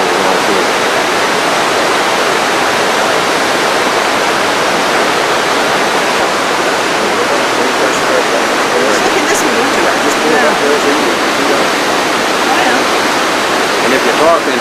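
Water rushes hard through the Ragged Chutes hydropneumatic compressed-air plant, a loud, unbroken roar that fills the whole stretch without letup.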